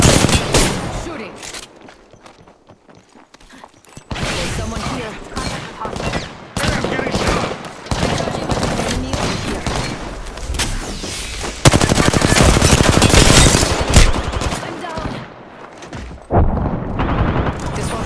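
Loud video game gunfire from Apex Legends, with rapid automatic bursts and dense volleys that come in waves and pause briefly before resuming close and heavy.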